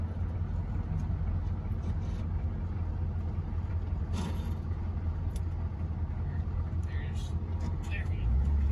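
Chevy K10 truck engine droning steadily as it pulls through the gears, a constant low rumble with road noise throughout, rising slightly at the end, with someone talking over it.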